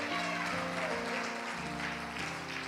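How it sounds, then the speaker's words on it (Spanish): Church congregation applauding the Lord at a Spanish-language service, a sustained steady wash of clapping with organ or keyboard tones underneath, moderately loud throughout. "Dale un fuerte aplauso allí al Señor."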